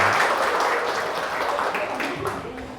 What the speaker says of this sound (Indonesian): Oke, beri aplaus dulu untuk semua.